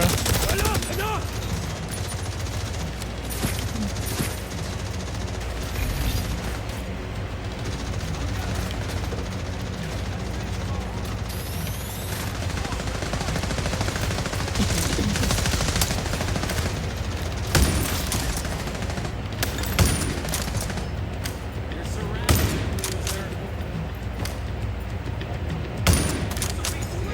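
Gunfire from The Division Resurgence video game, dense bursts of automatic shots and scattered single cracks across a long firefight, loud and near, with someone talking over them at times.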